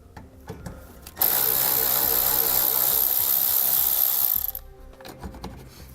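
A ratchet fitted with a 7mm socket works a fender bolt loose on a 2015 Chevrolet, a dense burst of rapid clicking lasting about three seconds between quieter handling noises nearby.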